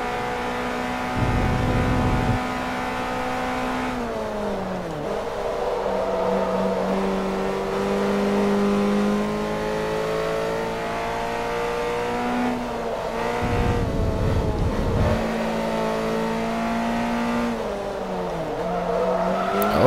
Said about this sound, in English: I need to do something about that downshift. Called throttle blip, probably.